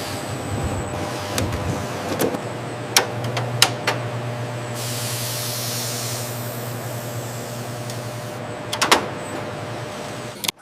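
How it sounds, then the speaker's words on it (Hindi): Toothpaste factory mixer running in vacuum mode: a steady low machine hum and hiss with a constant drone, broken by several sharp clanks and clicks, with no talking. "अब पेस्ट जाता है वैक्यूम मोड में।"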